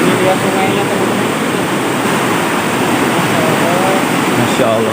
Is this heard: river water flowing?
yes